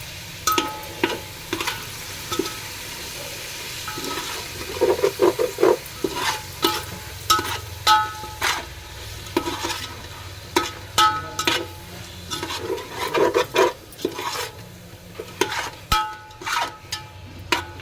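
Chicken biryani masala with mint and coriander is stirred in a pan: a soft sizzle under repeated scraping and stirring strokes in uneven bursts, loud and close.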